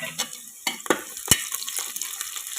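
Green chillies sizzle in hot oil with onion and peanuts, a crackling spatter broken by several sharp stirring scrapes and pops, close and fairly loud with no speech.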